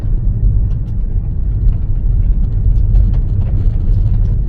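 Gravel rattles and patters against the underside of a moving car, a dense, continuous low rumble of road noise with scattered crackling hits throughout.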